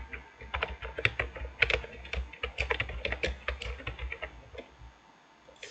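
Rapid clicking keystrokes on a computer keyboard as a company name is typed in, close and uneven in rhythm, slowing to a few taps at the end.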